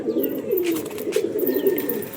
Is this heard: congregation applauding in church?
no